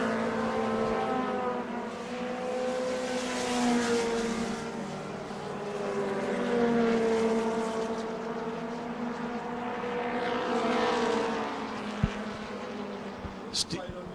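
Mini stock race cars circle the oval at New Smyrna in a FASCAR race, their engines droning in overlapping rising and falling waves, near then receding, with a commentator talking over the field.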